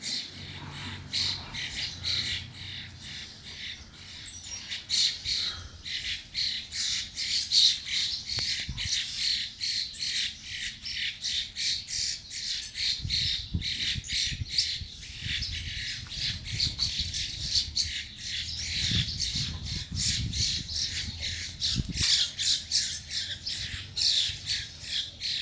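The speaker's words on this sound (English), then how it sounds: "look at these two birds go at it" Two birds fighting in Detroit squawk harshly and repeatedly in a rapid, nearly unbroken stream of loud, raspy calls, close by, over a low background rumble.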